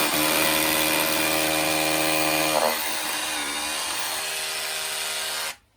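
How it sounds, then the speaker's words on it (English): A power drill runs steadily and loudly for over five seconds in a garden while fencing is put up beside a new koi pond, its motor pitch dropping partway through as it bogs under load, then cutting off abruptly. "Get yourself a decent drill like that."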